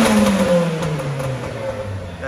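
A Renault Clio with a decat pipe revs hard toward the rev limiter, a loud rasping engine note rising and falling close by, with a voice talking over it.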